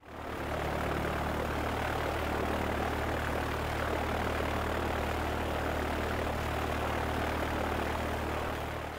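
A propeller airplane engine drones in a loud, steady, unbroken roar heard from on board, constant throughout with no pauses.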